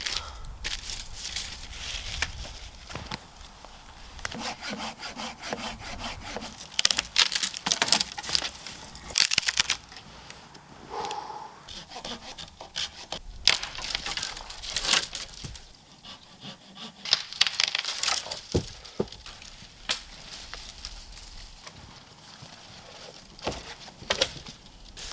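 Shovels scrape and crunch into deep lake effect snow at a winter survival camp in a hardwood forest, a long run of repeated, uneven digging strokes close by with no talk.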